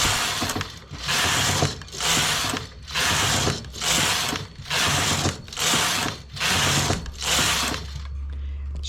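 A knitting machine carriage running back and forth across the needle bed: about eight loud rhythmic mechanical passes with ratcheting clatter, each separated by a brief pause, alone without talk.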